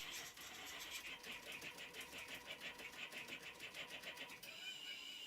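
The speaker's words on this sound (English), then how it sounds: "With sending the start command, the machine begins to plot the file." A homemade CNC machine plots a pattern of concentric circles and straight lines, its stepper motors whirring in a fast, regular pulsing rhythm that shifts pitch near the end; quiet and close, with no voices.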